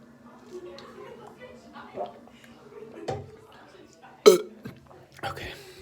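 A person attempts a belch, producing a few short throaty croaks and gulping mouth noises, with one sharper burp-like burst near the end.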